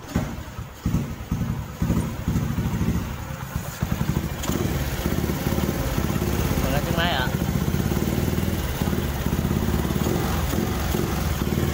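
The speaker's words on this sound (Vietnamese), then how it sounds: "Để mình cho các bạn nghe tiếng máy nha." A Honda 67 SS50 motorcycle engine runs at idle close by, a steady rapid putter with some clatter, and a person talks over it in the first seconds.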